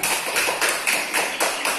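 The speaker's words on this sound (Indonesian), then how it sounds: "Luar biasa jawabannya, tepuk tangan." Students in an Indonesian classroom clap together in a steady rhythmic burst of hand claps, close and moderately loud, with no talking over them.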